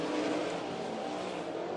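360 sprint race cars circle a dirt racetrack, a steady, fairly distant blended roar of engines with no clear passes standing out.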